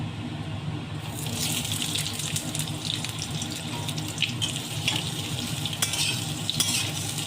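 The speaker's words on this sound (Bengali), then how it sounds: "প্রথমে আমি আলুগুলো ভেজে নিচ্ছি" Potatoes fry in a wok with a continuous close sizzle, broken by scraping stirs and sharp clicks of a spatula against the pan, no voices present.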